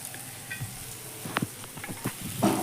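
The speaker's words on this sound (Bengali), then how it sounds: "আমি একটু ভালো করে খুন্তি দিয়ে নেড়ে চড়ে দিচ্ছি।" Mango dal being stirred in a pan with a spatula: a soft, close sizzle under a few brief scraping strokes, fairly quiet, with no voices.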